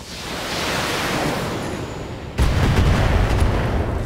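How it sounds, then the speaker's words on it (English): Long-range missiles fire in the BattleTech game: a rising hiss of launching rockets swells, then a loud, dense rumbling barrage bursts in and carries on to the end. "So here comes our LRMs. Eighty percent. Firing."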